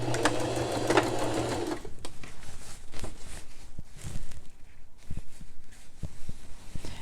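Sewing machine running a straight stitch on a man's dress shirt, a fast, steady mechanical whir for about two seconds followed by quieter intermittent taps and clicks as the fabric is handled.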